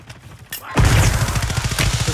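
A grenade blast and flashbang burst in the Call of Duty Warzone video game, with a short soft pop followed by a loud, sustained hissing roar that churns on with rapid pulsing until the end.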